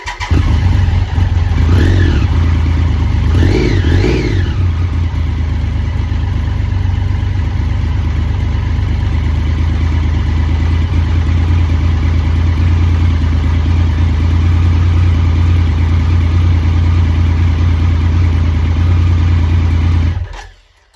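Triumph T300 Tiger motorcycle engine, newly rebuilt, running after a cold start: a loud, close, steady idle with a couple of brief revs early on, then cutting off at the end.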